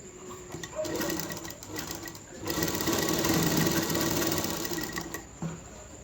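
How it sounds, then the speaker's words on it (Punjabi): A sewing machine runs steadily, stitching a double line along a kameez neckline. The motor whirs continuously for about six seconds, louder in the second half, with no talking. "ਇੱਥੇ ਅਸੀਂ ਡਬਲ ਸਲਾਈ ਲਗਾ ਦਾਂਗੇ"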